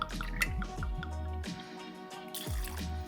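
Irish whiskey is poured into a cocktail shaker, a close series of dripping, splashing liquid sounds with intermittent low thuds, heard alone without speech.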